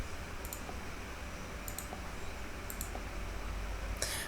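Computer mouse clicks on a password manager app page: a few sharp, isolated clicks spaced about a second apart over a low steady background hum.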